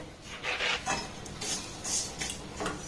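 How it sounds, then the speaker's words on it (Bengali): A spoon stirs sweet batter in a bowl after sugar is added, giving a close run of soft scraping and swishing strokes in an uneven rhythm, with no talk. "আবারও সমস্ত উপকরণ একটু নাড়াচাড়া করে নেব"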